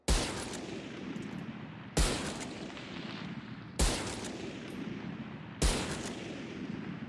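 Four loud, sharp Marshal sniper rifle shots ring out in Valorant, spaced evenly about two seconds apart. Each crack trails off into a long, echoing tail before the next one.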